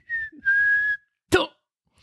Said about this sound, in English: One man remembers hearing the sounds of childlike whistling just before he was thrown to the